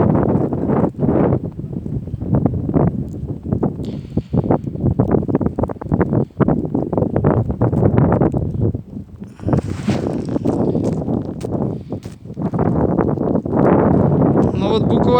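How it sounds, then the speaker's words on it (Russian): A blizzard's strong wind blasting straight into the microphone, a loud, continuous, gusty roar and buffeting that rises and dips, with a voice talking at times underneath. "И весь день уже так метет, хорошо, мощно."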